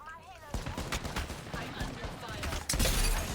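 Gunfire in the Apex Legends video game comes as bursts of rapid shots, with a loud volley near the end and a voice speaking underneath.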